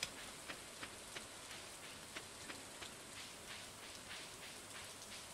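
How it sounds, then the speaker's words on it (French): Steady rain falls in the farming video game Stardew Valley, a soft constant patter with small droplet ticks at irregular intervals and nothing else over it. "Et il pleut bien."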